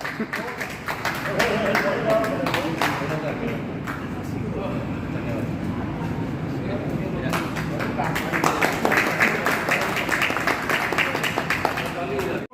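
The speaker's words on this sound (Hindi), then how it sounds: "जोरदार तालियां।" A crowd at a senior citizens' get-together in a club house applauds continuously, a dense wash of many hands clapping that swells and holds steady for several seconds, with voices mixed in.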